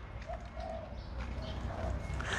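Spotted doves coo softly in a few short, rounded phrases, repeating at a slow, steady pace over a constant background hiss, somewhat distant and with no voices.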